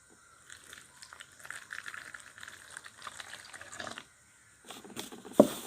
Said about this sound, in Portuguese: E agora coloca 225 ml de água morna.